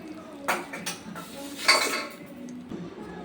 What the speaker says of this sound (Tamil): தாளிப்பு தேய்ச்சிட்டு சட்னியை வந்து நல்லா ஒரு மிக்ஸ் பண்ணிக்கலாம்